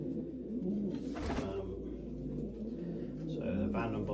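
Low, soft cooing from a racing pigeon, a cock bird of Johnny Panis and Vandenbolt lines, repeating in gentle rolling phrases across a few seconds with a brief flutter midway, fairly close in a quiet loft.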